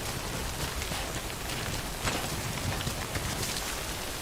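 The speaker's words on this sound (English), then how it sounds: "We wait out the rain over there." Steady rain in the video game Death Stranding, a dense even hiss of falling drops heard close and continuous throughout, with no talking.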